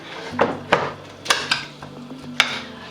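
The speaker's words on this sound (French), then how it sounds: "Et puis je vais prendre la grande cuillère, nous allons mixer." A large spoon mixes Dijon mustard sauce, giving a handful of sharp clinks and scrapes against the bowl at uneven intervals over a quiet kitchen background.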